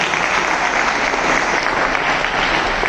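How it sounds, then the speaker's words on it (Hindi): Loud, sustained applause from an audience at a college National Service Scheme camp inauguration ceremony, steady dense clapping filling the whole stretch without talk. "एक बार जोरदार तालियां वशिष्ठ साहब के लिए"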